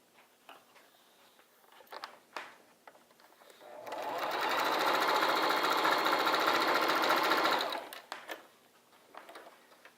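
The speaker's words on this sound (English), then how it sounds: "then we'll sew that across the top" Sewing machine stitching a baby quilt runs in one steady, loud burst of about four seconds, with quieter handling sounds and brief clicks before and after it.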